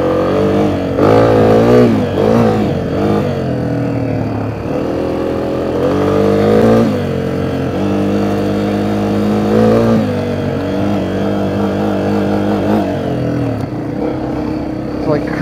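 A dirt bike engine revs and bogs during a hare scramble race in Colona, Illinois, its throttle rising and falling in uneven surges, close and loud, while someone talks over it.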